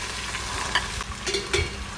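Tofu and fish cakes fry in a covered pan with tomatoes, giving a steady close sizzle with a few brief clinks and stirring sounds.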